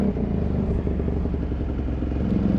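A KTM 950 Rally Dakar 2003 motorcycle on knobby tyres runs along a road, its engine a steady, loud, close rumble with a clattering edge and no talk.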